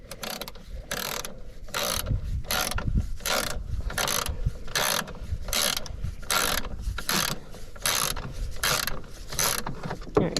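Ratchet wrench loosening a battery terminal bolt on an L5P Duramax pickup, fast repeated clicking in regular bursts as the handle swings back and forth, close and clear with no speech.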